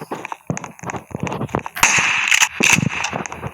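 Rapid sharp gunshots in a shooting video game, several close bursts cracking over quieter stretches of game sound.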